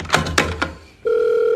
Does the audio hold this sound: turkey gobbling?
no